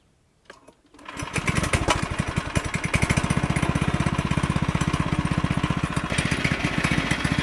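A go-kart's small engine catches after a brief crank, then runs loud and close with a fast, steady pulsing chug that holds at a constant idle.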